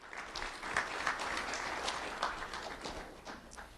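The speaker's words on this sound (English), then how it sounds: "Round of applause for America Rodriguez." An audience applauds an honored student at a sheriff's office recognition event, a steady, moderately faint wash of many hands clapping that runs without a break and without speech.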